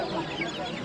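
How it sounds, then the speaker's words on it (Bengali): Desi chickens at a Kolkata animal and bird market give brief, close clucking calls against a busy market background, with voices faintly nearby. "দেশি মুরগি নাকি?"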